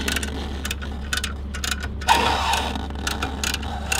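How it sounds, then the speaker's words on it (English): A ratchet wrench from an EPOARTIST camper wheel chock kit is loosening the chock. Quick, irregular bursts of close metallic clicks sit over a steady low hum. "I'm also gonna take it off with the wrench, and basically this is a ratchet wrench."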